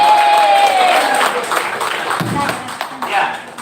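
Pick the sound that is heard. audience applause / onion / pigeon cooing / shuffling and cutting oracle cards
audience applause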